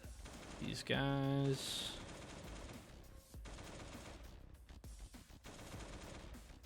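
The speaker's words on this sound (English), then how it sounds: "We're just gonna burn these AKs up." AK rifle fire in a looter-shooter video game comes as a loud burst after a short electronic tone, followed by quieter intermittent shots and clatter while someone talks briefly.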